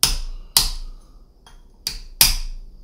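A hammer strikes a punch to drive the bolt pin out of an APS CAM870 bolt. Four sharp metallic taps ring out close by in an uneven rhythm, each with a short bright ring, and a lighter tick falls between them.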